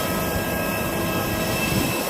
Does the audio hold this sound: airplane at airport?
yes